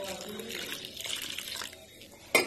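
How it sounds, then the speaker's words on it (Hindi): Water poured into oats chilla batter in a home kitchen, a steady light trickle running for about two seconds, followed by a brief louder splash near the end; no talk over it. "पानी ऐड करते जाएंगे"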